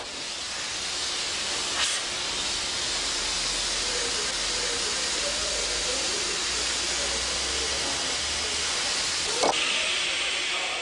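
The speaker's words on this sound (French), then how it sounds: "Puis soudure au moyen d'un chalumeau à air chaud équipé d'une buse." Hot air torch fitted with a nozzle welding a joint, a steady broadband hiss and rush of air running continuously and close, with two brief sharper bursts partway through.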